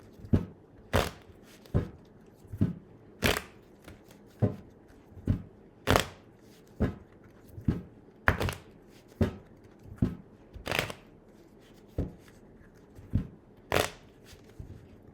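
Tarot cards shuffled repeatedly in sharp, crisp bursts, a steady rhythm of riffles about once a second, close up with no talking.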